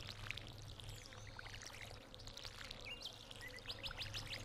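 Crops watered with a watering can in the farming game Stardew Valley, a soft trickling pour under faint game birdsong and small chirping effects, quiet and continuous.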